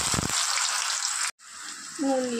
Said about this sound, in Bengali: তো চলুন আলুটা খুব ভালো করে ভেজে নেব।